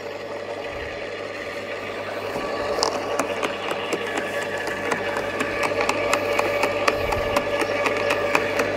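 An Aldi Ferrex impact garden shredder chopping a cut tree branch about two centimetres thick, a steady motor drone with dense cracking and splintering bursts throughout, loud and close, no talking.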